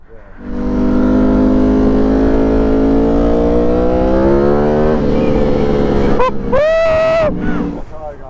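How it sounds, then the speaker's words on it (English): A Ducati V4 motorcycle with a two-into-one semi exhaust idles loudly nearby, then builds into a rising rev before several sharp, high-pitched throttle blips near the end. "I got a two into one exhaust semi system. It's still blowing. Yeah, you want to hear it?"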